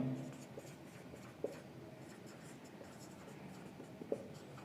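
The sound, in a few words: writing out an accounting solution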